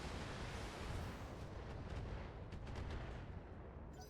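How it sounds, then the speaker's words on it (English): Artillery fire in the BattleTech game BTA3062 rolls on as a dense, continuous barrage of heavy booms, loud and rumbling, with no voices. "So I think we will intensify firepower. And fire away."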